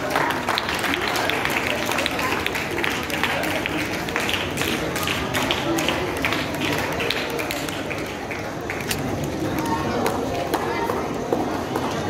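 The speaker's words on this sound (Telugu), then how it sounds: "ఇది బిగ్ క్లాప్." A hall full of people gathered for a state yoga team felicitation gives a long, dense round of applause, loud and continuous for over ten seconds, with voices mixed in.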